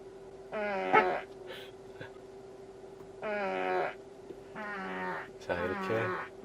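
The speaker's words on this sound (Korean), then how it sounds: "이런 방귀 소리 장난처럼 볼 수도 있고요" Playful fart sound effects from the Toybox feature of a Tesla Model Y RWD, played inside the car as four separate bursts with short quiet gaps between them.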